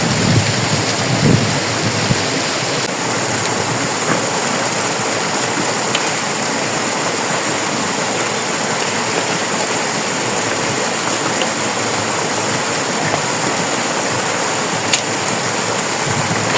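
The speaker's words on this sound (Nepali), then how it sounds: "this is a small waterfall" A small waterfall on a rocky river near Dharan, a dense, steady broadband rush of falling and splashing water, loud and close, unchanging throughout with no voices.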